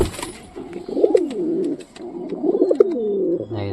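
Foreign pigeons coo in repeated soft, throaty rolls with a bubbling rhythm. Close and moderately loud, with a few small clicks and rustles between the calls.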